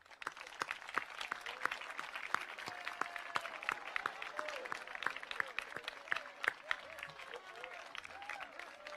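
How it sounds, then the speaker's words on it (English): Graduation ceremony audience clapping for a career and technical center class, a dense patter of many hands in a large hall, moderately distant and continuous, with a voice speaking over the applause. "join me in a round of applause to those who have helped you along"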